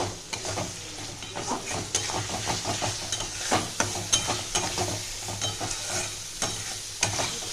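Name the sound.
mutton with cumin powder being stir-fried in a pan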